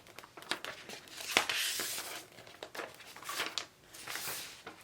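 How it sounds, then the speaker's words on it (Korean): Plastic film on an iPad Magic Keyboard box is torn and peeled open, loud crinkling and ripping coming in several bursts close to the microphone, with no talking. "이거를 여기에 요거를 이렇게 뜯을 때 세상 제일 행복해."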